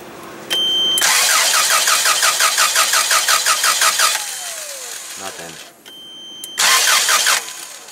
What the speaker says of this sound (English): let's try to crank it again